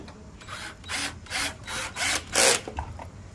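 A piece being tapped into a pre-drilled hole in wood while building a Kreg Jig support and storage unit, heard as a series of five or six rhythmic bursts, close and fairly loud, with no talking.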